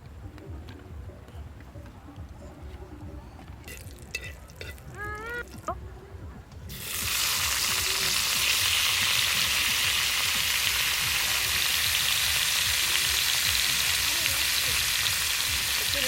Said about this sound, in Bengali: লঙ্কা দিয়ে দিচ্ছি গোটা।